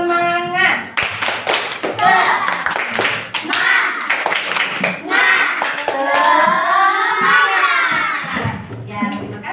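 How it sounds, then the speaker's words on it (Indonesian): Schoolchildren in a classroom perform a rhythmic group spirit clap, sharp patterned hand claps in quick bursts mixed with their chanting voices and a teacher speaking. "sekarang tepuk semangat lagi"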